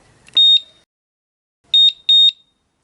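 Three sharp, high electronic beeps from a Radikal RK10 disc lock alarm arming, one alone and then a quick pair after a pause, loud and clear against silence.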